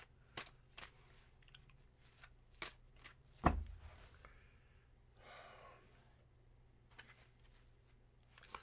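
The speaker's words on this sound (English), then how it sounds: "Here are your 7 official shuffles." Quiet, sporadic card riffles and taps, a few sharp flicks and one louder slap midway, close up with long soft pauses between.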